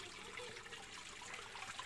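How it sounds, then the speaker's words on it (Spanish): Spring water trickling and seeping out from between rocks at a natural water source, a faint, steady watery trickle running continuously and alone. "Ahí se ve cómo está escurriendo, cómo está naciendo de entre las rocas."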